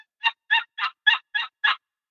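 Six short, raspy yelps in an even, fairly quick rhythm, each a clipped burst — a voice imitating a turkey hen's call, close and clear with silence between.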